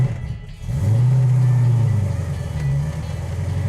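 A 1972 Dodge Charger drives along with a steady, loud mid-pitched engine drone that rises slightly as it pulls, heard up close and alone.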